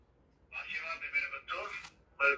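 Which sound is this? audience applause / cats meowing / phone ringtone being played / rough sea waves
phone ringtone being played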